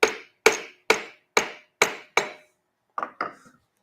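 Six evenly spaced sharp hammer taps on a metal part, close and loud, followed by two lighter, quicker knocks after a short pause.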